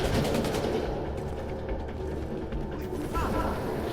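Sustained rapid automatic gunfire from a deployable turret in The Division 2, with dense overlapping bursts continuing loudly and steadily throughout.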